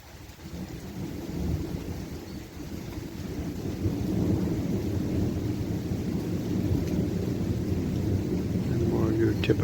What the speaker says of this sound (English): And more your typical thunder sound.